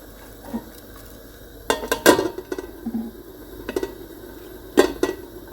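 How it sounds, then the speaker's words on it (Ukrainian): Metal pot and utensil clatter while chopped onion is dropped into boiling salted water for a minute of blanching, with scattered clanks and a few sharper knocks between quieter stretches. "Далі опускаємо в киплячу воду нашу порізану нашу цибулю на одну хвилину."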